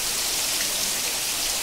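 Heavy monsoon rain pours steadily in the Konkan region, a dense, continuous hiss of downpour with no pauses, loud and close, and no voices over it.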